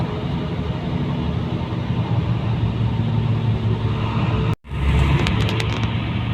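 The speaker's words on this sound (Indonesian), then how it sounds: "Setelah itu, bus kembali melaju dengan normal" A Bagong express bus cruises along a road, a steady low engine rumble and road roar heard from inside, broken by a brief sharp dropout before the drone resumes.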